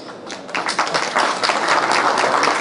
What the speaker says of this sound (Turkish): Onları alkışlıyorum.